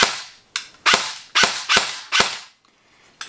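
A D Boys M4 CQB airsoft rifle fires six sharp, loud shots at uneven intervals, each crack followed by a ringing, noisy spring twang that trails off, heard alone and up close.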